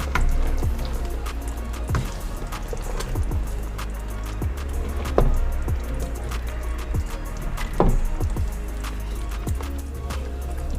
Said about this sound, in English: As you can see, I'm stirring our porridge.